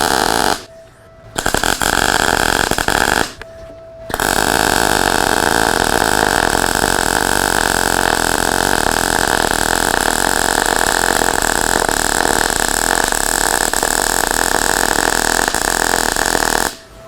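Everlast Cyclone 200 E MIG welder running a bead on 1/8 inch cold roll steel plate, a loud close steady crackling buzz with two short pauses near the start, then continuous to the end.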